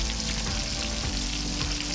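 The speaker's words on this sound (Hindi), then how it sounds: "ये देखें माशाल्लाह फ्राई हो रही है, डीप फ्राई।" Fish deep frying in very hot ghee in a home kitchen, a loud, steady, close sizzle and crackle that runs without a break and without any voices.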